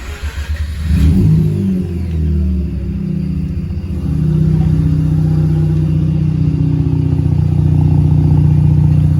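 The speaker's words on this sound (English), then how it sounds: "So yeah, that's my exhaust." A Mazda RX8 rotary engine fires up and idles loudly through a 3-inch catback exhaust with two Flowmaster mufflers and a 5-inch tip, a close, deep rumbling drone that settles into a steady, slightly uneven burble.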